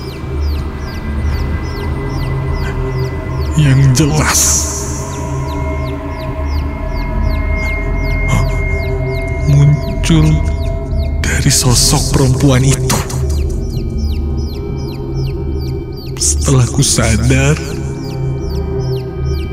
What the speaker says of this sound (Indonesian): terasa terdengar seperti anak ayam